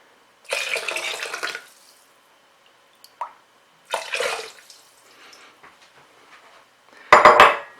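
Vegetable stock is poured into a Thermomix in a few separate bursts of splashing and clinking, with short gaps and a small knock between them. It ends in a sharp metallic clatter, close up and with no speech.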